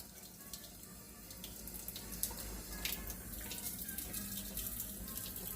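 Running water from a tap or hose used to water coleus plants, a steady, fairly quiet splashing hiss that continues evenly throughout with no talk.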